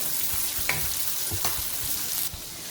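Tomatoes cook in a pan for chicken karahi, giving a steady close sizzle with a few sharp clicks from a utensil, then the hiss drops slightly near the end.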